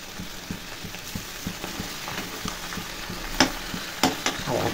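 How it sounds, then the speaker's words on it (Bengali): Giant river prawns fry in a pan with a constant close sizzle, overlaid by regular rhythmic clicks and a couple of sharper bursts of spattering toward the end, with no talking. "আর এদিকে গলদা চিংড়ি ভেজে দিচ্ছি"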